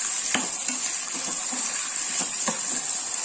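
Sem beans cook in oil over a medium flame while being stirred, producing a continuous bright sizzle with soft scraping and clicking strokes of the spoon, close and steady.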